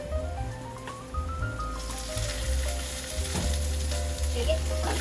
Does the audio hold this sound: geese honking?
no